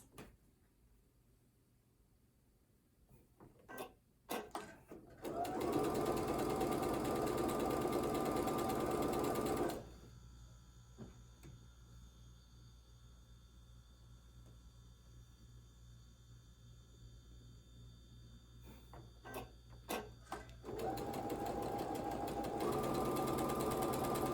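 Sewing machine chain piecing fabric strips, running in two steady loud bursts separated by a quieter stretch of handling and faint clicks, with no talking.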